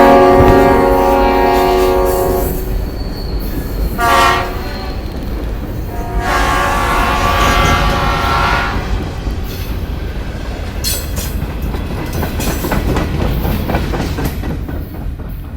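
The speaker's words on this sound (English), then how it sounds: "that's the rubbish train headed down to Cape to pick up their trash" A rubbish-hauling freight train passes close by near the Agawam River in Wareham, loud and continuous, with long horn blasts sounding over the rolling rumble of the cars.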